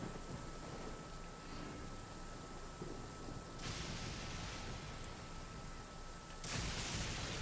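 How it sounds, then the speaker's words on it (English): Thunder rumbles with steady rain through a storm in the video game Genshin Impact, a low continuous roar that swells into louder, brighter bursts midway and again near the end, with no voices. "Thunder and lightning."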